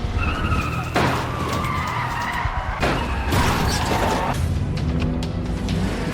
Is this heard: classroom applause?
no